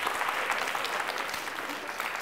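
An audience at a school book quiz competition claps in a sustained burst of dense, even applause, fairly close and loud throughout.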